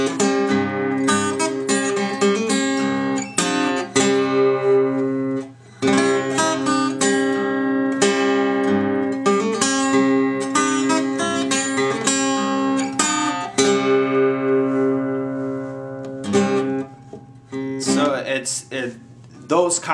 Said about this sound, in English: So in all, the introduction, it will from the beginning sound like this.